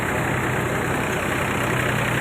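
A tractor engine idles steadily with a continuous low rumble, even and unbroken, with no voices.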